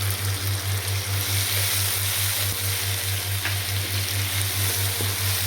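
Chicken keema with salt and chopped tomatoes frying in a pan for a Delhi-style bhuna keema, giving a soft, steady sizzle that stays close and even throughout, with a low constant hum beneath it.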